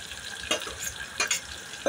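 Onions fry in a pan while being stirred, giving a soft steady sizzle with a few brief scraping strokes of the utensil, close and moderately quiet.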